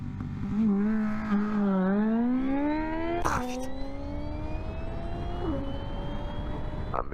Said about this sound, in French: Ouais une Bandit 1002, un sacré bruit, ça va piquer